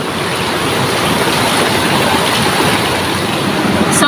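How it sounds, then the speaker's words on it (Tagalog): Heavy rain pours steadily onto a sari-sari store, a dense, loud, continuous wash of dripping and splashing with no break across the whole stretch. "Grabe na guys yung tulo oh. Ang lakas ng tulo."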